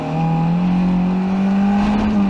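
A Formula 1600 race car's engine drones loudly and steadily from onboard as it accelerates out of a corner, the tone rising gradually, close and unbroken.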